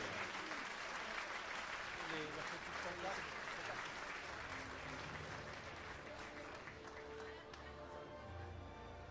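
Crowd applause at a 3000m steeplechase athletics meeting in Montbéliard, a continuous faint wash of clapping with a commentator's voice over it.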